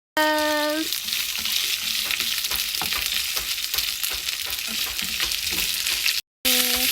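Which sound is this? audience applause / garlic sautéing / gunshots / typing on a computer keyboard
garlic sautéing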